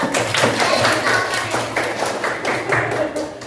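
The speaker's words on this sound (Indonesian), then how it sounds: "Tepuk tangan untuk Nopal." Students in a classroom clap together for a classmate, a steady patter of many hands at close range, with voices murmuring underneath.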